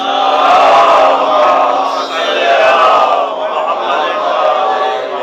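A religious gathering in Rawalpindi loudly chanting slogans in unison, a dense crowd roar of voices swelling and falling in waves over about five seconds, close and continuous.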